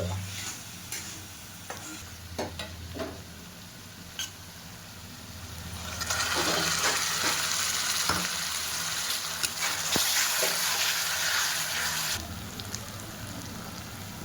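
Onion with ginger-garlic paste frying in hot oil for an Odia chicken dalma, a steady close sizzle with stirring clatter that swells loud and bright midway, then eases back down.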